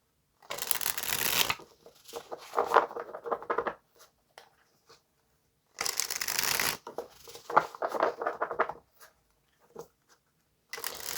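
Tarot cards shuffled by hand in several rapid riffling bursts, crisp and close, with quiet pauses between them.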